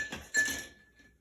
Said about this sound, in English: I waited to put my ice in my mixing glass.